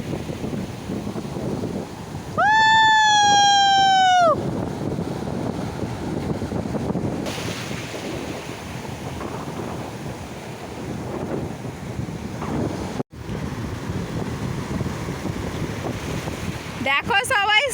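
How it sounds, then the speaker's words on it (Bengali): Big sea waves break continuously on Digha beach with a broad roaring wash and gusty wind rumbling the microphone, while a voice speaks briefly near the start and again at the end. "দেখো কত বড় বড় ঢেউ।"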